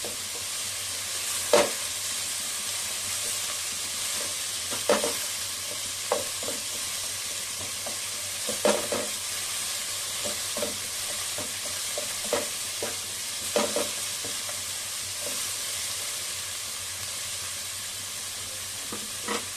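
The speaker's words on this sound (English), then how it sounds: "Let the onion take its light brown taste." Onions frying in a pan for chicken curry, a steady soft sizzle punctuated every few seconds by sharp spatula scrapes and clicks of stirring, close and unaccompanied by speech.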